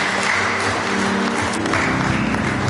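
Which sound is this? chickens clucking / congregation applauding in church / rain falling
congregation applauding in church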